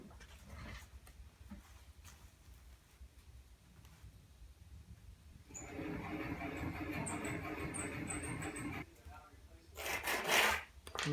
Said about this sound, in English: I'm going to go out in the dark because it's late and cut this wood